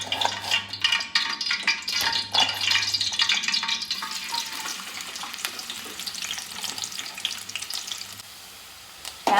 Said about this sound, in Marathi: दोन चमचे तेल घालते त्यात मी आता बारीक कापून कांदा टाकते